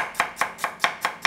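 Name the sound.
chopping ginger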